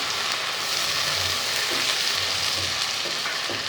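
Ginger garlic paste frying with soft onion in a pot for prawn rice, giving a steady loud sizzle with faint stirring scrapes throughout.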